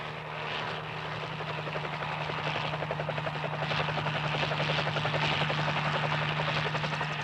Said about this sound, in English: helicopters are often used to plant new trees.